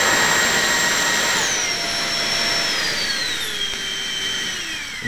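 An AEO 8-blade 40mm electric ducted fan runs flat out at full throttle, a loud, steady high-pitched jet-like whine with tones that slide gradually downward, continuous and close throughout.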